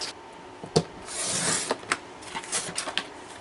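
Paper trimmer slicing yellow cardstock, a soft scraping rasp of the blade sliding across the sheet with a few sharp clicks and taps, fairly quiet and close.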